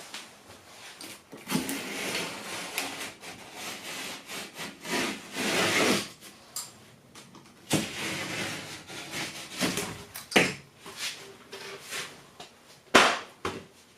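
Utility knife scoring the back side of a drywall sheet during bathroom ceiling installation prep: close, rough scraping strokes in uneven bursts, some longer and some short and sharp, with brief pauses between.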